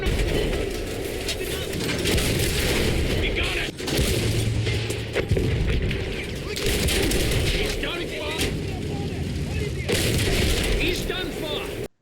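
Explosions and bursts of gunfire roar through a Battlefield 1 battle as German tanks are destroyed, with heavy booms and rattling shots layered continuously over a dense, loud battlefield din.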